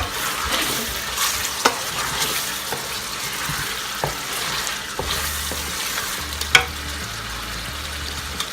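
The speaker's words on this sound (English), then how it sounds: "I'm going to start with my spring onions and my parsley." Spring onions and parsley stir-frying in a pan after cooked chicken was drained, a steady close sizzle broken by occasional sharp clinks and scrapes of a utensil.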